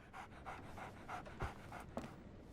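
A dog pants rhythmically in the Sherlock Holmes: The Awakened video game, a steady stream of quick, soft breaths heard close and quietly, with a faint thud partway through.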